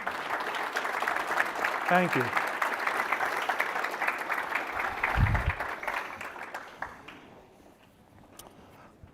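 Applause from an awards ceremony audience rolls on for about six seconds, dense and moderately loud, then thins out and tapers away; a voice speaks briefly over it.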